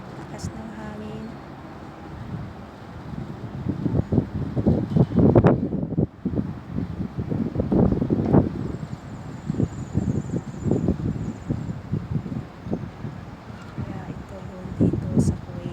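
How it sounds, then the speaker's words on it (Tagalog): Strong sandstorm wind gusts across a Kuwait rooftop, a continuous roaring rush that swells and surges in waves, with trees thrashing nearby and a voice speaking intermittently over it. "Lakas ng hangin."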